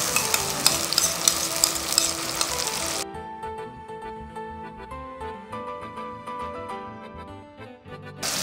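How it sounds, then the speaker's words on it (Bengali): Tomato paste and spices sizzle in a pan while being stirred for Bengali rohu fish kalia, a loud steady fry for about three seconds, then a quieter stretch with a tonal background. "এরপর এর সাথে পুরো টমেটো বাটাটাকে দিয়ে আমি কষাতে থাকবো, তাহলে আর কাঁচা গন্ধটা থাকবে।"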